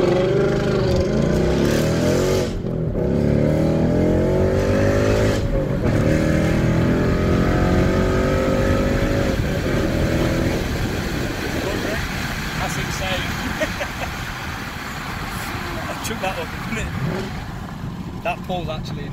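A straight-piped Ford Mustang GT revs hard, its pitch sweeping up and dropping through downshifts, loud and close with steady engine rumble throughout and people talking over it.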